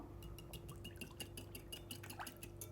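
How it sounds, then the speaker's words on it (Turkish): Eggs beaten briskly in a bowl after a glass of vegetable oil has gone in, a rapid run of clinking, wet taps from the whisk or fork against the bowl. The strokes come close and steady throughout, with no talking. "Ve yumurtayı dağıtarak iyice çırpıyorum."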